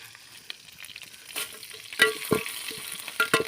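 Curry leaves frying in a pan, with faint crackling sizzles and a few sharper stirring scrapes and spatters, close up and fairly quiet, with no talk.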